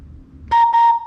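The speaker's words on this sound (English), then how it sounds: "It freaking works, man. I mean, that's a great whistle." A Mexican whistle gives two short, loud, piercing blasts at a steady pitch, close up and alone.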